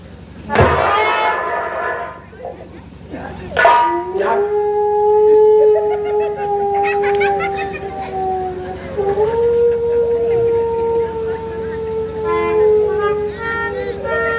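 Long, wavering howls from dogs, one sliding tone held for several seconds and rising again, follow a couple of sharp bursts; faint higher whimpers of puppies flicker in the background.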